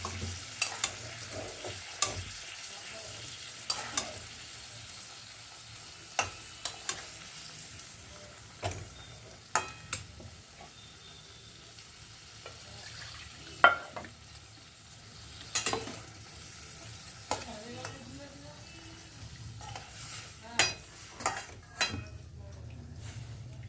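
Tangra fish curry with slit green chillies cooks in a pan, a low, quiet sizzle broken by irregular spatula scrapes and stirring clinks spread through the stretch, with no one speaking.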